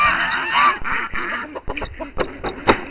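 Geese honk repeatedly in a backyard flock of waterfowl, loud and close, with several overlapping calls in an irregular burst over a steady background hum.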